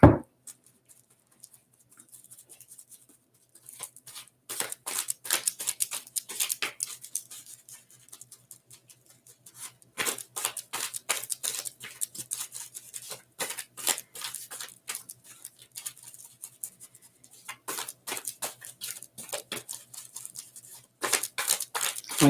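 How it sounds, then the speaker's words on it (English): Tarot cards being shuffled close up in repeated crisp riffling bursts, with brief pauses between rounds of shuffling. "I'm going to give it a good shuffle"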